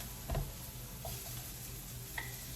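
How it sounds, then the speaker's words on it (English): Shrimp and browned garlic sizzle quietly in a wok under a steady hiss, with a few soft stirring scrapes and one light clink. "Now I'm going to mix my shrimp in here, get those sauteed up a little bit."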